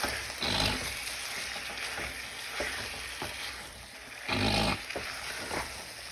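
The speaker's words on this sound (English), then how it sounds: "while we're browning the meat, we want to make sure that we're spreading the season out" Seasoned ground meat browning for shepherd's pie sizzles steadily in a pan, with louder bursts of frying as it is stirred and moved around, heard close and alone.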